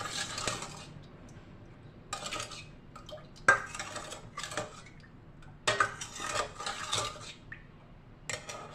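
Maja blanca mixture being stirred in a pot with a utensil: a run of metallic scrapes and clinks against the pot, coming in short bursts with quiet gaps between them, close and fairly soft.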